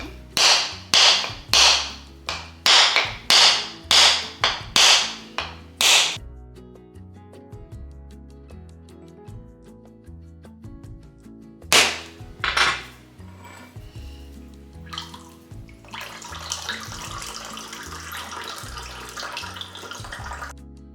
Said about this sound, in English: I'm gonna have to open my coconut, get the water out, and remove the skin, the flesh